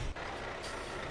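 A truck's engine hums steadily on an empty motorway in a truck-driving video game, a brief low rumble with a short hiss at the start and no talk.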